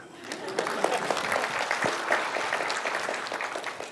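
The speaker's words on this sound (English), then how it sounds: "Better give her a clap." A lecture audience claps steadily for several seconds, a dense, even patter of many hands filling the hall at moderate loudness, with no one speaking over it.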